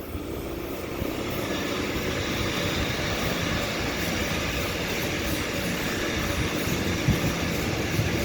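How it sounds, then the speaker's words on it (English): A Sydney Trains Waratah set on a Liverpool service passes through Stanmore station at platform 3 with a loud, continuous rumble and roar of wheels on track that holds steady throughout. "Liverpool service passing platform 3"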